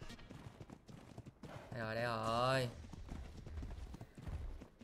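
Horse hooves clip-clop in Ark Genesis 2, a repeated clopping that runs under someone talking, joined midway by a loud drawn-out horse call.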